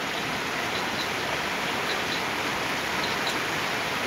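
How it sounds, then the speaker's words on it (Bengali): Heavy rain pours steadily throughout, a dense, continuous hiss of drops close by with no pauses and no voices. "অনেক বৃষ্টি, অনেক অনেক অনেক অনেক বৃষ্টি, ঠান্ডা দেখেন কিভাবে বৃষ্টি, বৃষ্টি এরকম ভয়াবহ বৃষ্টি চলতেছে।"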